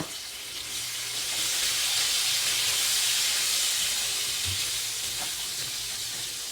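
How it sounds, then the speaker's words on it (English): Half a large jalapeno sizzles in a hot pan while aloo palak is cooked, giving a steady, loud, broadband hiss that holds for several seconds with no one talking. "And then I'm gonna put half a large jalapeno."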